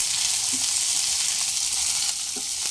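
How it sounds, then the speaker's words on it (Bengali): Chopped onions and green chillies fry in a pan with a steady, loud sizzle that runs throughout, broken by a couple of soft stirring taps. "পেঁয়াজ হালকা ভাজা হতে দেব"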